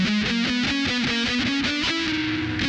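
Distorted electric guitar plays a quick run of evenly picked notes climbing step by step up the scale, a lick, loud and alone.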